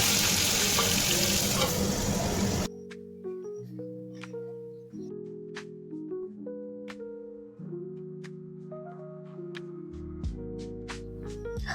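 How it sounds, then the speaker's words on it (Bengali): Pona fish pieces sizzle hard in hot salted mustard oil in a kadai, a dense, loud crackle lasting a couple of seconds before it stops abruptly and gentle tonal music plays alone. "তারপরে যে দিয়ে দেবো মাছগুলো, দিয়ে দেবো ভাজতে"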